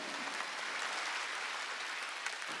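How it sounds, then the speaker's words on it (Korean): Sustained audience applause at a Korean church sermon, a dense, steady wash of many hands clapping throughout, with no talk over it. "박수 치라 이게야"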